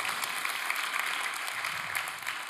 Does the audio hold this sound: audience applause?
yes